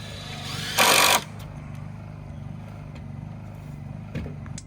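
A power saw bursts into a short, loud cut through a small piece of pine at a treehouse build site, about half a second long, over a low steady engine-like hum with faint knocks afterward.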